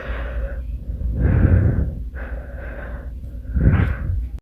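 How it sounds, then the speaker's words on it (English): A man breathes heavily and noisily, with three or four rasping, snorting inhales and exhales in an uneven rhythm, loud and close to the microphone, with no talk. "For our number 2 most annoying sound, we have this guy breathing!"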